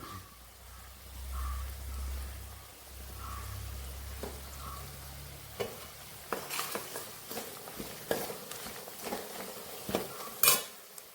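Metal utensil stirring garlic pickle in a pan, Kerala style: a low frying rumble early on, then a run of sharp clinks and scrapes against the pan, loud and close, with no voices.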